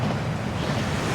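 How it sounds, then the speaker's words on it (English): Rushing water from a waterfall in the Gringotts vaults of Hogwarts Legacy, a loud, continuous broadband roar with no breaks, heard alone. "That waterfall washes away all enchantments."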